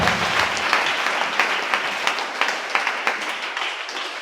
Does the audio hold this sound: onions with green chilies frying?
no